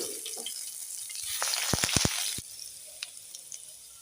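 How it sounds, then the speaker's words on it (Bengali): Minced garlic and ginger frying in hot oil for chicken rice: a steady close sizzle that swells midway, with a short burst of sharp pops and crackles before settling back to a quieter hiss. No one talks. "তেলটা আমার গরম হয়ে গেছে, দিয়ে দেবো রসুন আর আদা কোচানোটা।"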